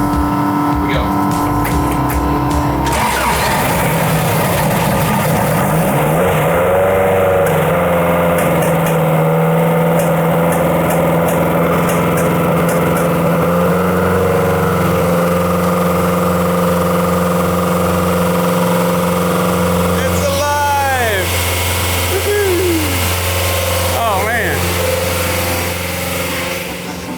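A Toyota minitruck engine with carburetor trouble runs roughly at idle, a loud, close, uneven drone that hunts and wavers for nearly half a minute, with people talking over it and a couple of brief whistling tones.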